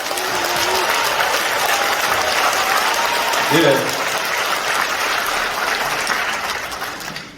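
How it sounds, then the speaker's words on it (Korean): Audience applause at a 2022 People Power Party members' training event at the Gumi civil defense education hall, a steady, fairly muted wash of clapping lasting throughout, with a voice briefly speaking over it. "구작은 위원장님께 박수 한번 해주십시오"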